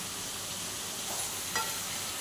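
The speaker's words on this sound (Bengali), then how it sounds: "মিট মশলাটা মিক্সিং করে নিই" Goat meat curry frying in a pan as meat masala is mixed in, a steady close sizzle with a brief scrape of stirring partway through, no voices.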